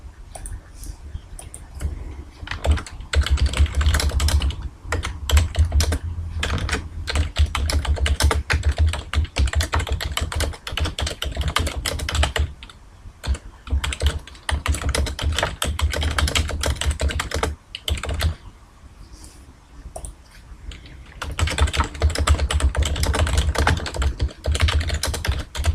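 Someone types steadily on a computer keyboard, a close, dense stream of key clicks in bursts with a few brief pauses, no voices.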